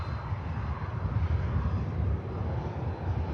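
An aircraft arriving from Dubai descends toward Manchester Airport, its engines giving a steady, broad rumble that stays fairly even throughout, with no voices over it.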